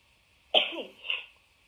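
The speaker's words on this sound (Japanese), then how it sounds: "くしゃみですよ。" A person with a cat allergy lets out a sudden, sharp sneeze nearby, followed a moment later by a softer second burst, then quiet.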